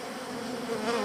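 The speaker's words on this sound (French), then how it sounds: "celle-là est vachement bourdonneuse" A honeybee buzzes steadily and close by, a continuous droning hum that swells slightly toward the end, with no voices over it.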